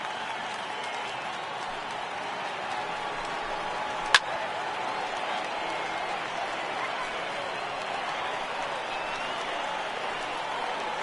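Stadium crowd noise from the baseball video game MLB The Show 18, a steady broadband roar of a large ballpark crowd with applause texture throughout, one sharp click near the middle.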